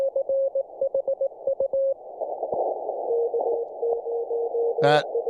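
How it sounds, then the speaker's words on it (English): Morse code from a bug, a mechanical semi-automatic key, beeps as a steady radio tone with unevenly weighted dits and dahs over a hiss of static, ending in a brief burst of noise. "that was somebody using a bug. That's a mechanical keying device, not a straight key."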